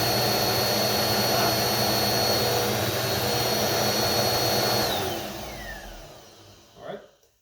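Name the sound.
Eureka Powerspeed vacuum cleaner motor running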